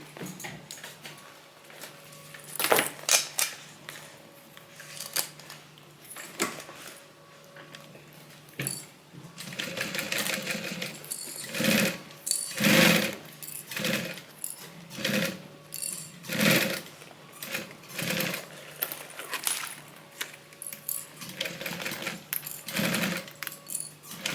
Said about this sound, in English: So now we sew.